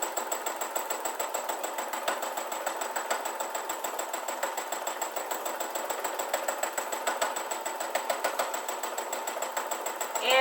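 A sewing machine free-motion quilts a fabric sandwich held in Octi hoops, its needle thumping in a fast, even, continuous rhythm at close range with no talk.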